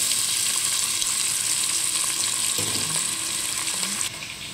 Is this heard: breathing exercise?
no